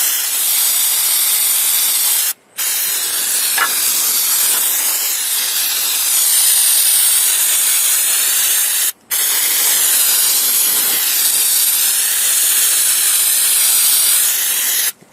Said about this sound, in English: Got some just regular brake cleaner here.